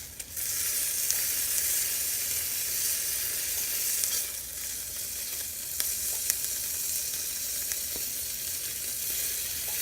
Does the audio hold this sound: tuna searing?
yes